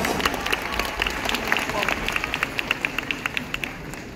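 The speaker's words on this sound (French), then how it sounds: "On applaudit bien fort Daisy de Super Smash Bros." Scattered clapping from an audience at a cosplay contest at Japan Expo 2024, individual claps audible over a murmur of crowd noise, becoming more regular toward the end.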